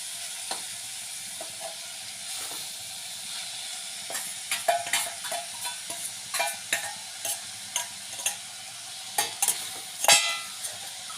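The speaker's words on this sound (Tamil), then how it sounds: "இதெல்லாம் தக்காளி வதங்கணும்" Tomatoes and chilies sautéing in a pan, giving a soft, steady sizzle with scattered clinks and scrapes from stirring that grow more frequent toward the end.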